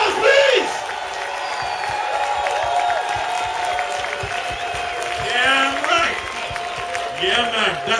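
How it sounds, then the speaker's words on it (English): An audience at a hip-hop b-boy dance final between Germany and USA applauds the dancers, with clapping, whoops and shouts swelling in waves over several seconds. A voice speaks over the crowd. "last round of applause for all the hip-hop dancers, all the b-boys, everybody who came on stage"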